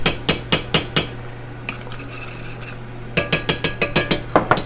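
A whisk strikes a pot of thick, paste-like chicken mixture in quick, sharp metallic taps, first a rhythmic run of clinks, then a quieter pause with faint scraping, then another fast run of taps, close and loud.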